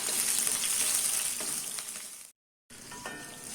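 Curry leaves dropped into hot oil with onions crackle and sizzle loudly in a pan, a dense frying hiss that cuts out briefly to silence before resuming.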